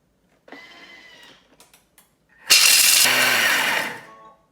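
A Thermomix TM6 kitchen machine preparing to mill almonds into almond meal: a brief motor whir and a few mechanical clicks, then a loud, gritty roaring burst of blades grinding the nuts for about a second and a half.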